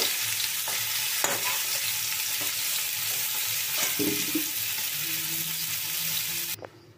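Fried pumpkin pieces lifted out of hot oil in a pan, loud continuous sizzling with scraping and clinks of a utensil, fading sharply at the end.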